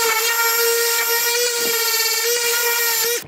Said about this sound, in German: Jetzt schleifen wir das nochmal schnell über.